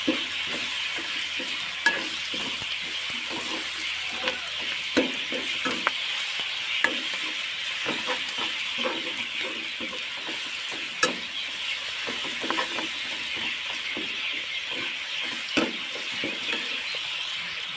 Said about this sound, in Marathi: त्याच्यामध्ये मी थोडेसे मीठ आणि थोडीशी हळदी टाकून घेतले त्याला मी परतून घेते